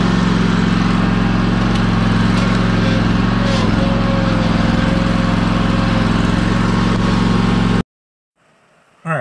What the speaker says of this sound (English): So, let's get to mowing.